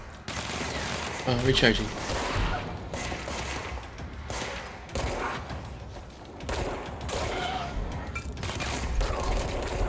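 Enemy heavy weapon firing in the video game Control, dense bursts of gunfire and booms packed together over a loud, busy battle mix, with a voice talking briefly.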